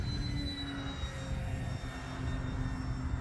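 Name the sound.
E-flite Decathlon RC airplane flying at half throttle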